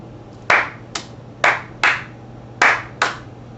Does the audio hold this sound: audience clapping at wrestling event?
yes